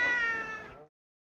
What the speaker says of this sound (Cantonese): 每個門口都有隻貓喺度㗎